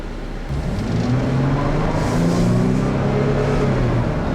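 A 2012 Jeep Wrangler Unlimited Sport with a V6 engine drives along, its steady engine drone and road noise filling the cabin, rising slightly in pitch as it gains speed.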